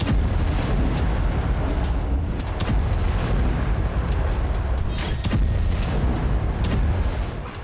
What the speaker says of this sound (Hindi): ये कुपियांस्क से आई तस्वीरें हैं, जिसमें 152 mm सेल्फ प्रोपेल्ड गन से यूक्रेनी सैनिकों पर हमले किए गए।